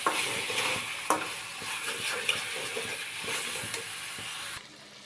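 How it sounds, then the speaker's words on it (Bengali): Chicken and masala are stirred together in a pan for a chicken curry with potato, carrot and tomato. A spatula scrapes and taps against the metal in a steady rhythm over a soft background sizzle. "মশলা আর মাংসটা একসঙ্গে মিক্স করে নেব।"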